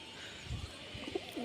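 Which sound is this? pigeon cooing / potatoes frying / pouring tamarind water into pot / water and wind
pigeon cooing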